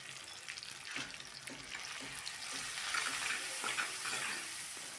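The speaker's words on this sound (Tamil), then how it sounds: "மஞ்சத்தூள் போட்டு நல்லா வந்து வதங்கினதுக்கப்புறம் வந்து குழம்பு மிளகாத்தூள் போட்டுக்கோங்க." Tomato and turmeric sautéing in a pan for a kulambu, with a faint steady sizzle and soft scrapes of stirring, quiet and close with no talking.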